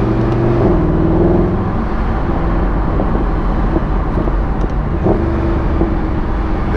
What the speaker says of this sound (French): T'as vu comme ça pète à l'échappement,